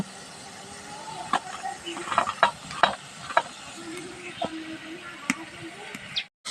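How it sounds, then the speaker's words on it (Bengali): Spice paste for an eggplant kofta curry sautés in oil in a pan, with a soft steady sizzle and a string of sharp clinks and scrapes from stirring, at moderate volume and with no talk. "মশলাটা কিন্তু আমার কষা হয়ে যাচ্ছে"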